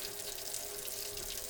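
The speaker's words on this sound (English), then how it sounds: "I'm going to turn on the water" A tap runs water into a sink during a static electricity experiment, a quiet steady hiss of flowing water heard alone.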